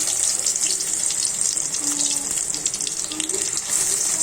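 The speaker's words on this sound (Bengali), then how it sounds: "এভাবে আমি তেলে দিয়ে ভেজে নেব" Stuffed ash gourd slices frying in oil, a steady continuous sizzle with bright crackle throughout, fairly close and without pause.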